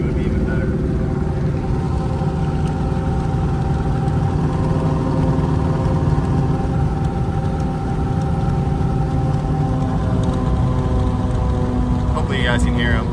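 37-inch Boggers mud tires on a truck with a big cam, built transmission and 342 gears, droning loudly and steadily on the road for the whole stretch, blended with engine and road noise.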